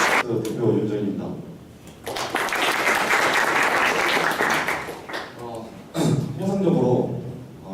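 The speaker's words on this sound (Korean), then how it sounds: "큰 박수 다시 한번 부탁드립니다" Audience applause after a startup pitch presentation at a venture forum, a sustained burst of clapping in the middle that swells and fades, with someone talking over a microphone before and after it.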